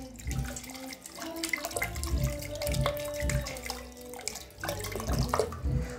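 Mini DC 3-9 volt submersible water pump spraying a forceful, high jet of water, heard as continuous splashing and spattering with uneven surges and a faint motor whine underneath.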